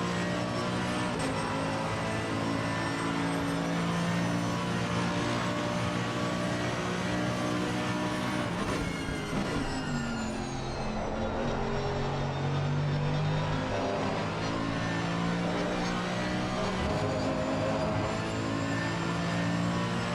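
A Mercedes AMG GT3 EVO race car at Monza in a racing video game, engine held at full throttle: a sustained, loud, harmonic roar that climbs and dips with gear changes over twenty seconds, without speech.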